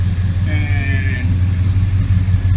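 A 1979 Chevrolet Malibu engine idles with a steady, deep, close rumble throughout, while a faint voice-like tonal sound rises briefly near the start.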